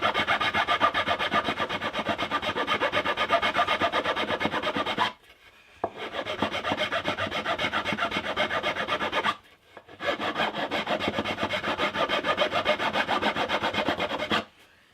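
A file rasping the end of a wooden hollow-body electric jazz bass, steady rhythmic back-and-forth strokes heard close and loud in three long runs broken by two short pauses.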